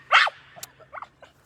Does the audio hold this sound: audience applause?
no